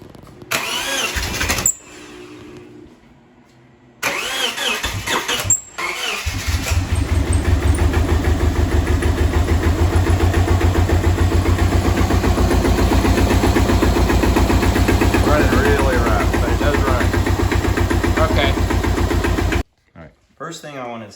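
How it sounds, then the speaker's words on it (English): Subaru Legacy GT with a blown motor, heard cranking in short bursts before catching and starting, then idling loudly and steadily up close with a rough mechanical rattle until it cuts off. "So we can go ahead and try to start it and see if it turns over."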